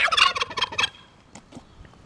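A turkey gobbles in a loud, rapid burst of rattling calls over the first second, then fainter scattered bird calls trail off.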